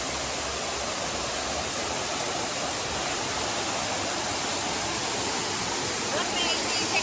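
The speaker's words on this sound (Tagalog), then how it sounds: "Ito pa isang falls." Twin Falls in Kalayaan, Laguna pours in a dense, steady rush of falling water, loud and constant throughout with no breaks.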